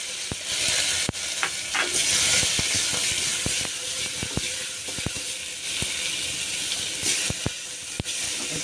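Green chillies and large onions fry in a pan, a loud continuous hiss and sizzle with sharp scattered spatter pops and occasional utensil clicks, close and with no voices.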